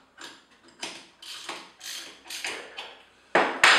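Wrench tightening a new collet on a Festool OF 2200 router, giving a series of short metallic ratcheting clicks and scrapes in uneven bursts, close up, ending with two sharper louder clanks.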